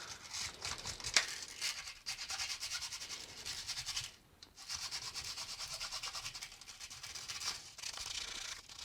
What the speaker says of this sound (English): get some sandpaper and we're going to sand down this stuff